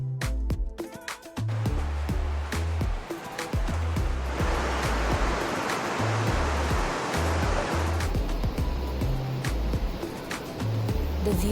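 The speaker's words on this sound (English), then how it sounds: "We could see the river, so crystal clear blue water, hear the sound of water" Rushing river water beneath a balcony in Italy, a steady broadband wash heard continuously at moderate loudness, with a few faint knocks and a low hum in the background and no talking.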